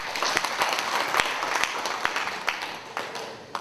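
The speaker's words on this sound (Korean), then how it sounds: "박수 부탁드릴까요?" Guests at a Buddhist news channel's anniversary ceremony applaud in a moderate room-sized burst, individual claps standing out sharply within the steady clatter before it tapers off.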